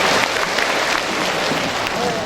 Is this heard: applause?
yes